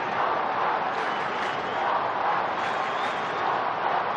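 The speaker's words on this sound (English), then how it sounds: "this crowd now making plenty of noise" A packed stadium crowd at a 2003 Australian rules football match between the Kangaroos and Fremantle keeps up a continuous, even roar of cheering and shouting, heard from a distance with no single voice standing out.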